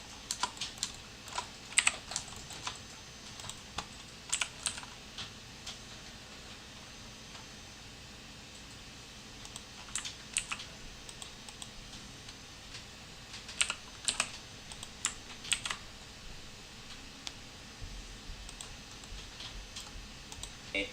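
Keyboard shortcuts are typed in 3D modeling software, with steady close clicks and irregular bursts of keystrokes continuing throughout and no voices.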